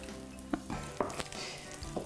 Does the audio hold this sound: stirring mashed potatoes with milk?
yes